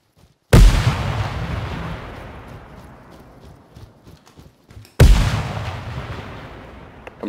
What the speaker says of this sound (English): Putting a frag towards the southeast.